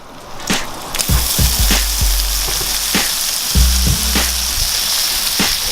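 Quartered tomatoes sizzle in a hot pan on a kadai over coals, a steady crackling fry broken by sharp wooden clacks and scrapes of stirring, close and fairly loud throughout.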